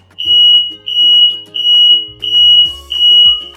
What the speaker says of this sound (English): we would hear that smoke alarm